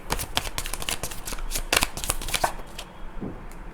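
Tarot cards shuffled by hand during a Cross of Truth spread reading, a dense run of close, crisp riffling flutters for about three seconds, then tapering off into quiet.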